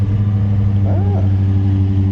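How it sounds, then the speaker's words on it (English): A 2023 Dodge Charger SRT 392 Scat Pack V8 sits idling after a cold start, a steady low throaty rumble with a brief higher swell in the middle, close and continuous throughout. "Quick little startup. It doesn't have the loudest motor available, but you get a lot of that throatiness that still comes through."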